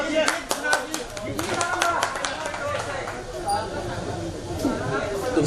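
An audience at a mushaira poetry gathering in Mumbra claps loudly and continuously, dense applause that thins toward the end while someone speaks over it.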